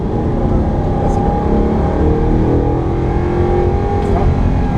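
An Audi R8 under full throttle, its engine droning loud and steady with rising harmonic sweeps throughout, heard from inside the car with a voice speaking over it.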